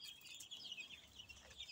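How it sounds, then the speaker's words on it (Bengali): Thirteen-day-old chicks peep in high, thin chirps, several overlapping quick calls over a quiet background. "দেখো আমার মুরগির বাচ্চাগুলি,"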